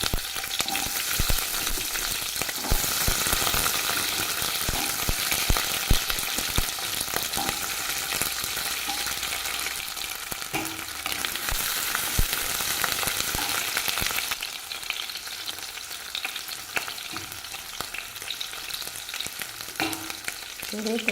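Onion frying in hot oil in a pan, a dense continuous sizzle with frequent stirring scrapes and taps throughout, close and fairly loud, with no voices.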